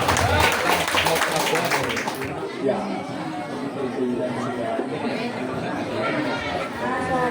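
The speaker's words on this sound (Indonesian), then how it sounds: "Tepuk tangan yang meriah." An audience at an Islamic religious gathering and graduation celebration applauds loudly in dense, steady clapping that fades into softer crowd chatter and murmuring.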